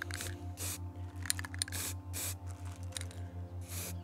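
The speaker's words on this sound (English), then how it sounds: "So now the focus tube has been sprayed black." Repeated hissing bursts of an aerosol spray can painting a Newtonian telescope focus tube black, short sprays in irregular succession over a low steady hum.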